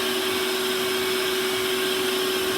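A shop vacuum runs on a Harbor Freight abrasive blasting cabinet, giving a steady, loud motor whine with a strong sustained hum and a broad airy rush, unbroken and with no voices.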